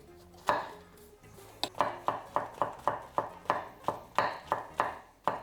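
A knife thinly slicing mushroom caps on a cutting board, with a quick run of about a dozen crisp, evenly spaced chops, close and clear with no talking.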